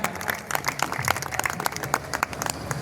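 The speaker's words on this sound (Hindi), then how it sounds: "जब जोरदार ताली बजाइए" An audience at a kavi sammelan of Hindi comic, satirical and romantic poetry claps in a dense, crackling burst of applause, steady throughout with no speech.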